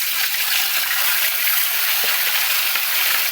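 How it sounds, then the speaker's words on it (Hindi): Fish frying in hot oil over a high flame gives off a dense, loud and continuous hiss up close, with a few faint pops and no speech. "अब मैं इसमें फ़िश डाल रही हूँ। हमें फ़िश फ्राई कर लेना है।"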